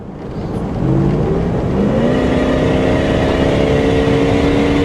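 A supercharged Hummer H2 truck accelerates hard, its loud engine note rising steadily in pitch as it pulls through the gears, a continuous close roar with no talking.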